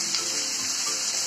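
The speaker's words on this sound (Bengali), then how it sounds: "এবার এই পেঁয়াজটা বেশ ভাজা ভাজা হবে" Onions fry in a pan on a home kitchen stove, giving a steady, close, even hiss of sizzling oil that holds without a break from start to end, with no voices.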